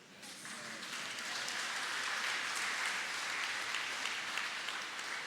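Sustained applause from a church congregation at Sunday Mass, honouring a choir of legionnaires; dense, even clapping fills the whole stretch with no voices on top.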